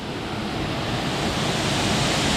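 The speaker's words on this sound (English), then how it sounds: "I'm going to stop talking for a few seconds so y'all can enjoy this waterfall" Dog Slaughter Falls pours in a steady, close, full roar of rushing water, a constant broadband wash with no speech over it.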